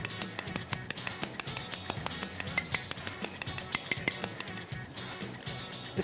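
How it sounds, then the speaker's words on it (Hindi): Egg yolk mixed in a bowl for zeera biscuits, a whisk or spoon clinking against the bowl in a steady, fast rhythm of sharp taps that keeps going throughout, with no talk over it. "अच्छे तरीके से इसको मैं मिक्स कर रहा हूँ"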